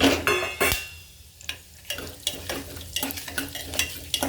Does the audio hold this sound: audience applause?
no